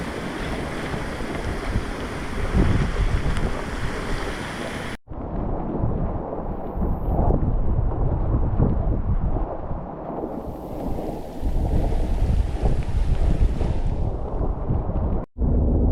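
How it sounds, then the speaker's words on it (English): Strong wind roars steadily over a sailboat cruising in the San Juan Islands, a loud, continuous buffeting rush mixed with water noise, briefly cut off twice. "Wind's picking up for us."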